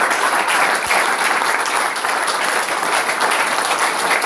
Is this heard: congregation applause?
yes